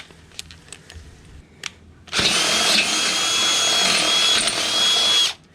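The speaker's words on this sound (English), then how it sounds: "I'll just finish that hole off with the 12mm drill bit" After a few light taps, a power drill with a 12mm bit bites into steel and grinds steadily with a loud, high-pitched whine for about three seconds before stopping.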